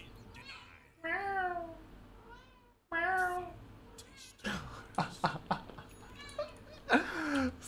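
Cat meowing in a game-session recording, several drawn-out, wavering meows in bursts, followed by voices talking and laughing.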